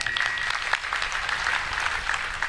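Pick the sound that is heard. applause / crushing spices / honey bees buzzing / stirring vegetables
applause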